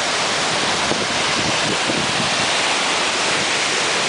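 A steady, broad rushing roar of a waterfall in Mato Grosso do Sul, Brazil, fills the air, constant and loud with no breaks.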